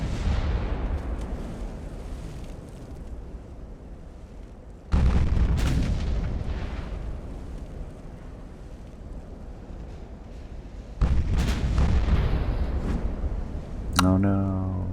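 Five-inch naval guns firing in the Ultimate Admiral: Dreadnoughts warship game: three heavy booming shots spaced several seconds apart, each one decaying into a long rumble, with a brief sharp ringing effect at the very end.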